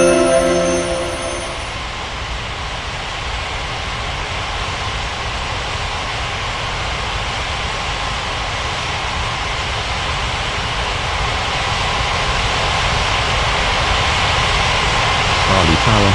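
An airliner's jet engines roar steadily during takeoff at Ngurah Rai Bali International in an air traffic control game, a loud sustained rumble and hiss that swells slightly toward the end, with radio voices heard at the start.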